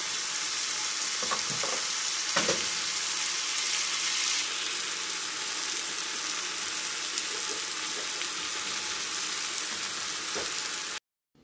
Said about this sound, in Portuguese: Deixar aqui no fogo médio e dourando.